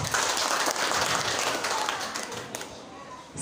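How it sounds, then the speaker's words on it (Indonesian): An audience applauds at a Christmas church service, a dense, steady wash of clapping from many hands that fades slightly toward the end. "Jadi mari kita berikan aplaus untuk mereka."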